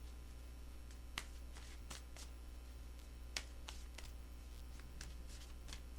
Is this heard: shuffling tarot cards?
yes